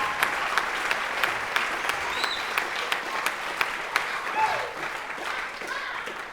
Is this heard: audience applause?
yes